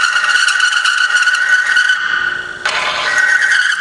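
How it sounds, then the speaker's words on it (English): In a lubricant test machine, a bearing is forced down onto a spinning race. It gives a loud, sustained grinding squeal that cuts out briefly, then returns harsher with added scraping noise. "we have a bearing that is going to be forced down onto the spinning race"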